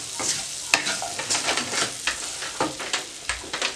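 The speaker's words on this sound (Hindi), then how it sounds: "फ्राई की हुई सब्जियां डाल दें। इसमें मिक्स करें।" Fried vegetables are stirred and tossed in a pan over medium flame for chicken noodles, giving a steady light sizzle broken by repeated scraping clacks of a spatula, close and without talk.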